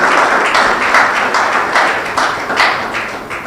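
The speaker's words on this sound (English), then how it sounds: "a big round of applause for Dr. Patric Njoroge, please." A roomful of people clapping loudly and steadily, dense applause that stays strong throughout and eases slightly toward the end.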